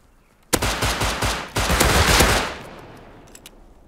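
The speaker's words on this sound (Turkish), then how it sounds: "Şimdi giderim silahla öldürmeyi denerim." Gunfire in the video game Rust: a loud, close burst of rapid automatic shots, a brief pause, then a second sustained volley that trails into a fading echo with a few scattered distant pops.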